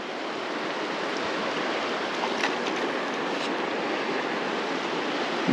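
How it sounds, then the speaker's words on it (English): A small waterfall on a stream where a whitefish is being caught gives a steady, even rush of falling water, close and continuous with no talk. "Hope he doesn't run over this little waterfall."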